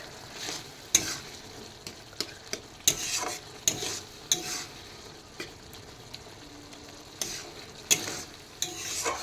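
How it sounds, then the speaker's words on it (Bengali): Lote fish jhuro being stirred and fried in a pan, with repeated scraping stir strokes over a steady close sizzle, no voices. "ভালো করে একটু মিক্স করে নিচ্ছি দেখো ফ্রেন্ড"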